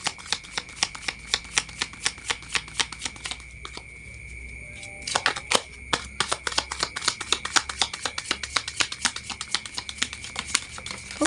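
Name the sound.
tarot cards being shuffled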